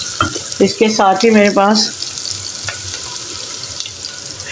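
Chopped onion frying in a pan, a steady broadband sizzle that carries on alone after someone speaks briefly over it at the start.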